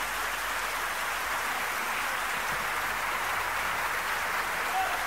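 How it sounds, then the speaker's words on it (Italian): Sustained, even applause from a theatre audience for orchestra musicians at a Neapolitan song concert, a constant hiss-like wash of many hands at moderate distance with no breaks. "vorrei che voi dedicaste un calorosissimo applauso a questi gentilissimi signori professori d'orchestra"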